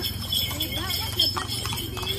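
Horse hooves clip-clop at a steady walking rhythm as the horse is ridden through a busy market, with people talking throughout over the hoofbeats.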